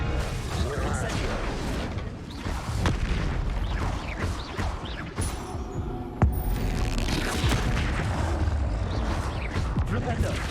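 Repeated bursts and booms of a fire spell being cast in a Harry Potter wizarding game, mixed with other spell impacts in fast succession, with a voice speaking over the clash throughout.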